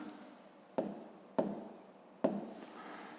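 Pen or chalk writing an answer makes three short scratchy strokes spaced about half a second to a second apart, each a sharp onset trailing off, close and quiet in a still room.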